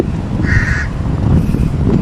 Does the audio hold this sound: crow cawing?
yes